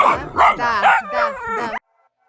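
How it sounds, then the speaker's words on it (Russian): Several puppies barking and yipping close up in a rapid, overlapping burst of high, excited barks that stops abruptly, followed by near silence. "А вот эти щенки уже заняты, красавцы"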